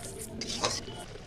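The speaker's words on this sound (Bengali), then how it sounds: "জিরে গুঁড়ো, ধনে গুঁড়ো আর লঙ্কা গুঁড়ো দিয়ে একটুখানি নাড়াচাড়া করতে হবে" Cumin, coriander and chilli powder being stirred in a frying pan for a crab curry: a brief, faint scrape of a utensil against the pan over a low sizzle, with no voices.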